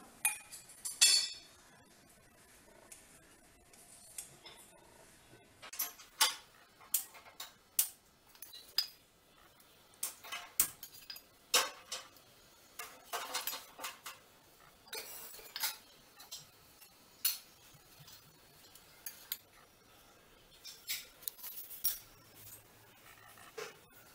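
A knife cuts through layered wheat-flour methi paratha dough on a hard surface, making scattered sharp clicks and taps at irregular intervals, quiet and close, with no one talking.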